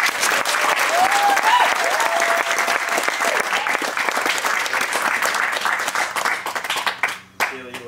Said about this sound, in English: please join me in a round of applause for Dave and Kaleigh.